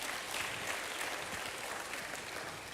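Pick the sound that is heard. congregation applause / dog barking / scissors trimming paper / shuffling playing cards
congregation applause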